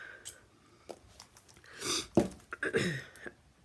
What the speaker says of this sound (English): You're going to have to excuse the sniffling.